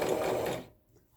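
A Brother XL-2600i sewing machine stitches fabric in a short, steady, close whirring run that stops abruptly after under a second, with no talking.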